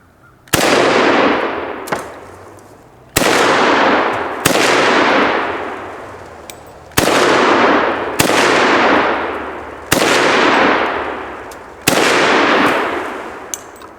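Rifle shots ring out at bowling pins, about eight sharp, loud cracks in irregular spacing, each trailing off in a long outdoor echo, some followed quickly by a second report or metallic hit.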